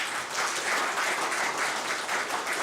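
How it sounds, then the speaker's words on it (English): An audience at a DevFest tech conference in Łódź applauds a speaker in a dense, steady wash of many hands clapping that fills the room for a few seconds without a break. "So one more time, big applause for Piotr."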